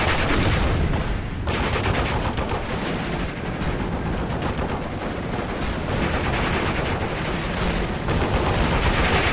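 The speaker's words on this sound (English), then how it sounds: "The half-track again, opening fire." A half-track opens fire in the video game Steel Division: Normandy 44, with dense, loud bursts of rapid gunfire and explosions forming a continuous battle din.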